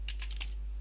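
A brief burst of about five quick key taps on a computer keyboard while text is entered, close and fairly clear, over a low hum.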